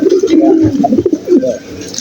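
Pigeons coo in low, throaty, repeated bursts close by while they eat broken rice, the calls rising and fading in uneven rhythm.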